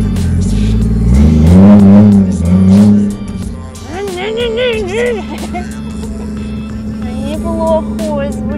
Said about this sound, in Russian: Приводим двигатель в действие.